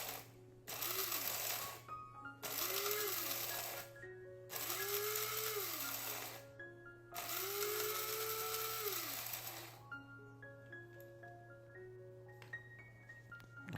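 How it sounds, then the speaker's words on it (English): A mixer grinder grinds a wet chai spice mix in four loud bursts of a few seconds each, the motor pitch swooping as it spins up and down, with short silences between bursts and a steady electrical hum throughout. "Close the lid and grind it to a slightly coarser texture."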